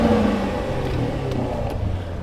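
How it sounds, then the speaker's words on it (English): A Corvette with a damaged differential launches from a standstill, its engine note rising briefly with a loud, continuous whir and road roar. "We're going to launch this car."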